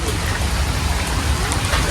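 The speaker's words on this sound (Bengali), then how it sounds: "মুসলধারে বৃষ্টি হয়েছে এখনও বৃষ্টি কিন্তু হইতে আছে" Heavy rain pours steadily on a Bengali village morning, a dense, continuous hiss and patter with no breaks, close and loud throughout.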